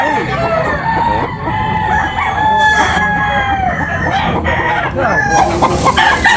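Chickens and roosters at a busy morning poultry market, with repeated loud crowing and clucking from many birds close by over a constant crowd din.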